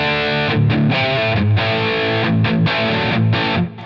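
Distorted electric guitar through a Line 6 Helix on a darker rhythm setting, with loud, sustained chords and riffs in a continuous played phrase that cuts off sharply at the end.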